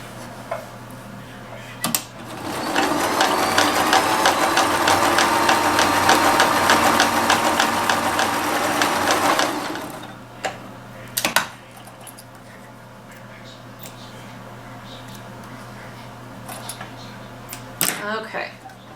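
Sewing machine stitching two short fabric ends into a loop, a steady loud whirring run of about seven seconds that stops, followed by quieter handling clatter and a few sharp knocks.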